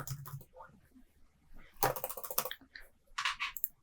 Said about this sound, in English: I'm just typing in keywords to make the search process far easier for me.